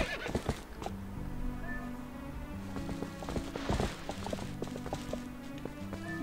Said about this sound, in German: Ach, so ein süßes Pferd